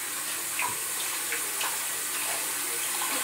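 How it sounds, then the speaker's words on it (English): A bathroom sink tap runs as a toothbrush is rinsed, a steady, close water stream lasting the whole moment, with no talking. "I'm about to rinse off her toothbrush."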